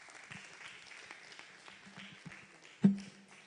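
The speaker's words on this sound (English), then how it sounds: "Can the round of applause be louder?" Light audience applause at a forum, soft scattered clapping held at a low, steady level with one sharper burst near the end.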